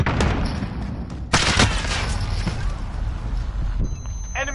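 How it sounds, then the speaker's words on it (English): An enemy sentry gun in a Call of Duty game fires as dense, loud, continuous automatic gunfire with clattering mechanical noise layered in. The barrage runs without pause, and a faint voice can be heard beneath it. "Enemy sentry gun active."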